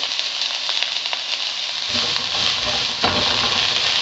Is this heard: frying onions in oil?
yes